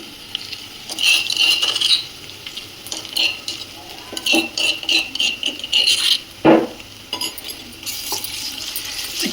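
Ginger-garlic paste and onions fry in a pan for Andhra-style egg pulusu, a steady sizzle broken by repeated scraping and clinking of a stirring spoon against the metal, close up and with no voice.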